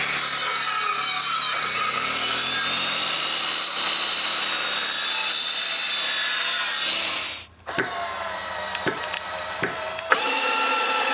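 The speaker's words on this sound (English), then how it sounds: "Then we can cut the 3 beams for the front of the shed." Wooden beams for the front of a cottage woodshed are cut with a saw, a continuous close rasping drone for about seven seconds, a brief pause with a few knocks, then the cutting resumes.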